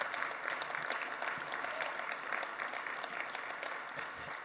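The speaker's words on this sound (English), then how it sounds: "Let's give them a round of applause, please." Keynote conference audience clapping for the event sponsors, a continuous, fairly soft and distant patter of many hands that holds steady throughout without speech.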